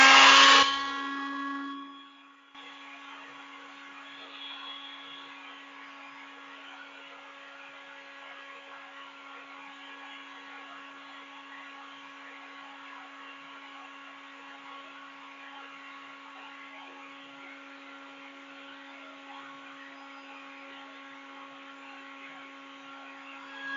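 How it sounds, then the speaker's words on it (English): A vacuum cleaner runs off an inverter add-on fitted to an EZ-GO golf cart, a steady moderate whine and airflow hum holding evenly after a short louder start-up burst. "I got this vacuum cleaner hooked up to it."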